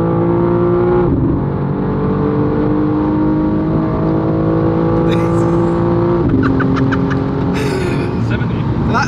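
A fast car accelerates hard along an open road in Mexico, its engine droning loud and close with rising pitch, a shift near the start and another later, as the driver talks over it.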